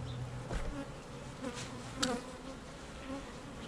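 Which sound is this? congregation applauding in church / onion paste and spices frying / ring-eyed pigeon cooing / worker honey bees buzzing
worker honey bees buzzing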